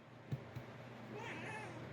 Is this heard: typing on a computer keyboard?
no